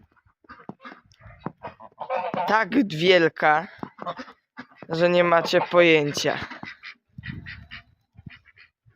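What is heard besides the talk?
geese honking in the snow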